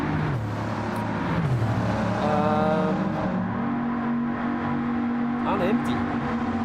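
Race car engines in Gran Turismo 7 drone and rise in pitch under steady talk, several cars running close together with bump drafting during a daily race.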